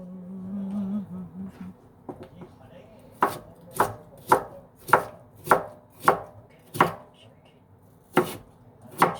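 A knife chops food on a board in a steady run of about ten sharp, close strokes, following a brief low hum and a few quieter taps.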